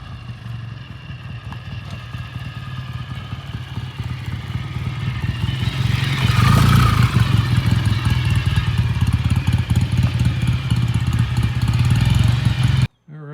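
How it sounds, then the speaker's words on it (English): A BSA A65 motorcycle approaching and riding past, its engine rumble swelling from a distant drone to a loud close roar, then easing off as it moves away, with no talk. "here he comes. Bike runs very nicely."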